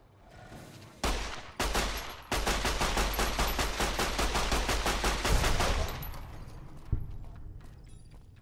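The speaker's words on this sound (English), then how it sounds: "It might almost just be better just to hip fire this weapon." Hip-fired A Light Shining In Darkness pistol in Fallout: New Vegas: two single shots, then a long fast string of close, loud gunfire that stops abruptly, with one more shot near the end and no talking.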